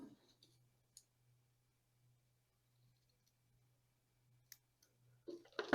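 A small piece of drainage screen is cut in half during the repotting of a cork bark jade (portulacaria afra) bonsai, giving a few faint, sparse snips and clicks over a quiet background, with one louder cluster at the end.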